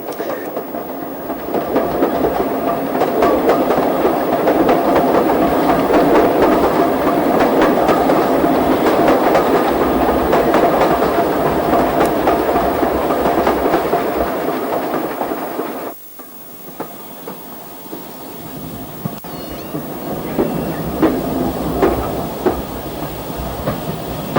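Loud, continuous rumble and clatter of a train rolling along the rails of the Axminster to Lyme Regis branch line, steady clickety-clack, fading briefly near the end before picking up again.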